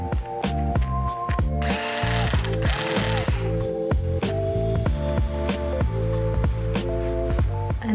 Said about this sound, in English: you can put the Wi-Fi bracket on the motherboard with the screw and screw that back in